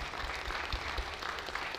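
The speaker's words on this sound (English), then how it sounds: "Let's give them a round of applause." Church congregation applauding participants of a Vacation Bible School program, faint and steady clapping from a distant room with a few louder nearby claps.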